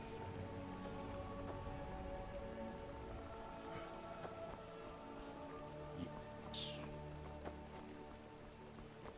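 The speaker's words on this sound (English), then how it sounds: "Ooh, it's raining." Steady rain in the video game Skyrim patters continuously on a surface, soft and even throughout, with no voices.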